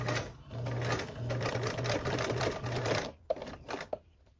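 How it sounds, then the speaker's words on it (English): Close, rapid mechanical chatter of a sewing machine stitching thick webbing onto a bag runs in short bursts, then stops and gives way to a few soft clicks and handling sounds. "I'm just going to sew straight up to this corner."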